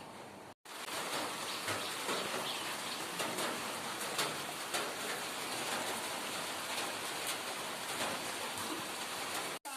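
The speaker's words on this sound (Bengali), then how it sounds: "সকালবেলা ঘুম থেকে উঠে দেখছি কি বৃষ্টি হচ্ছে, রাস্তায় জল জমে গেছে, বৃষ্টি হয়েই যাচ্ছে।" Steady morning rain falls outside onto a waterlogged road, a dense, continuous hiss of drops that stays loud and close throughout, with only a momentary drop-out near the start.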